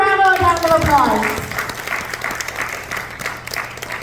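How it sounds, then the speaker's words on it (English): An audience applauds loudly at a community event honoring an immigrant, the clapping starting strong and then thinning to a steadier, softer patter; a voice rises briefly at the start, mixed into the applause. "Let's give her one more round of applause."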